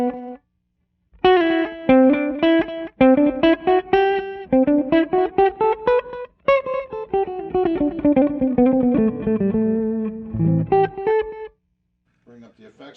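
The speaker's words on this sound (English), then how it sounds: "mode 5 is the reverse effect" A clean guitar plays a series of chords with a swelling, backward-sounding reverb that blooms into each note, ending with a short strummed flourish.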